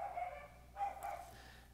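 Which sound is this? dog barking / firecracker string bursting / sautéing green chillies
dog barking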